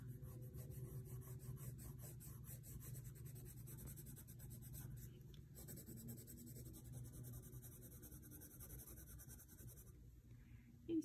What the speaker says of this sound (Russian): наношу штриховку, поэтому она становится здесь более темной